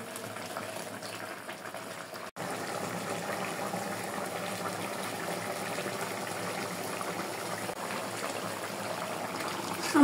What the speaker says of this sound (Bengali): আমার ঝোলটা যখন ফুটে উঠবে তখন আমি চিংড়ি মাছ দিয়ে দেব।